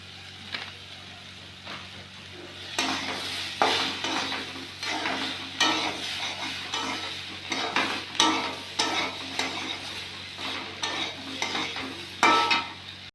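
Vegetables with ginger and turmeric frying in a pan while being stirred: a soft steady sizzle under repeated scraping and clattering strokes that come in an uneven rhythm, moderately loud and close.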